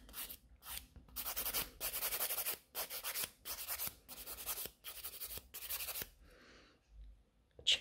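A sculpted coffin-shape fiber gel nail is filed smooth across its whole surface in about eight close, rhythmic rasping strokes with short pauses between them.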